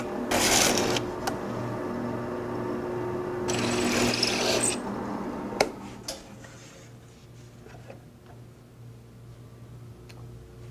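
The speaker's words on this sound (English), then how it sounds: "Now it's just a case of switching on and drilling." A power drill with a self-centering bit bores shelf pin holes, bursts of whirring and rattling separated by clicks and handling noises, close and moderately loud, fading to quiet tapping at the end.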